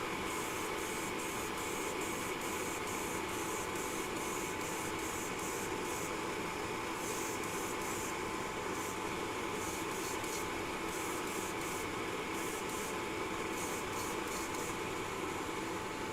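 An airbrush sprays Vallejo color shift paint in a steady, loud hiss that runs unbroken for the whole stretch, with faint rhythmic pulsing in the upper range and no talking.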